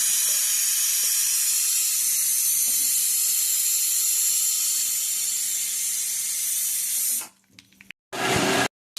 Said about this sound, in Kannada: ಈರುಳ್ಳಿ ಅದನ್ನೆಲ್ಲ ಒಟ್ಟಿಗೆ ಫ್ರೈ ಮಾಡ್ತೀನಿ ನಾನು